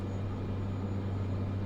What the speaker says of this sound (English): We've got a plane flying directly over top of us.